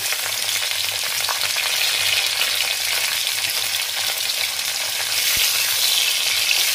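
Vegetables for Bengali milk shukto sizzle and crackle steadily in hot oil in a pan, a constant close frying hiss with occasional stirring and no voices.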